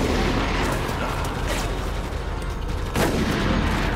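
Pistol gunfire in Resident Evil: Operation Raccoon City, a handful of loud shots in quick succession over a dense, noisy game soundtrack and effects.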